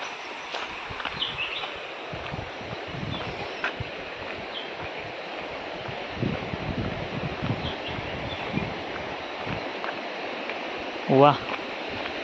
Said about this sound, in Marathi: पाण्याचा आवाज इथपर्यंत येतोय बघा